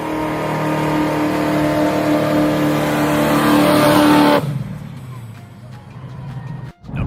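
A 1969 muscle car V8 engine roars loudly and steadily, holding a high rev for several seconds before cutting back to a lower rumble.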